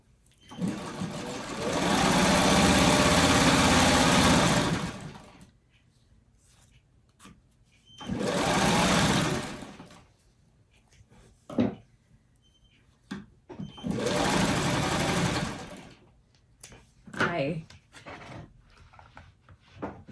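A sewing machine stitches quilt pieces in three bursts of steady whirring separated by pauses, with soft handling noises of the fabric and machine between runs.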